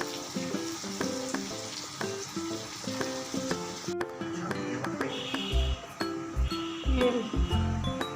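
Goat head curry frying in a pan, a steady sizzle with clinking of a spoon against the pan, and a few dull knocks near the end, loud and close throughout.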